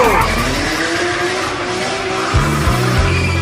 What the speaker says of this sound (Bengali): বাইক রেস করে জিততে হইব, পুরো খাড়া টান দিতে হইব।